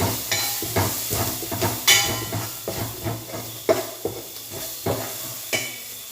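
Turmeric, chili and pepper powders stirred in a hot pan with vegetables, a rhythmic series of close scraping strokes and knocks over a low sizzle.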